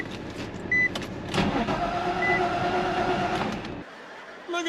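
A drift car's engine cranks and catches, settling into a steady rumbling idle for a few seconds before cutting off abruptly, heard close and fairly loud with faint voices in the background.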